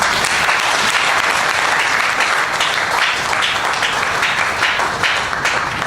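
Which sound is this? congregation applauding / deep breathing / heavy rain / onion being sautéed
congregation applauding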